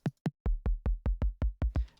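A Minecraft note block plays a run of about ten short, plucked percussive notes, evenly spaced and clear with no talk.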